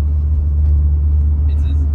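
Engine and road rumble inside an Audi RS3 shop car fitted with an IMS turbo kit and built engine during a ride along, a loud steady low drone under faint voices.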